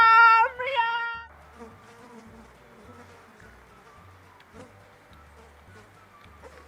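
A wasp buzzes in a comedy sketch about insects, a loud close buzzing drone at the start that drops into a fainter, lingering hum under rustling background sounds.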